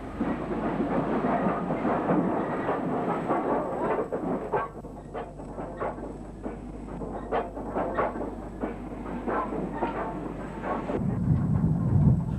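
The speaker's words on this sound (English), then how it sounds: "This Gresley V2 number 60895 had apparently worked in from its home base of York." A former LNER Gresley V2 steam locomotive, number 60895 from York, at Birmingham New Street station: deep rumbling and rhythmic exhaust beats with clanking wheels, moving at close range over a low continuous roar.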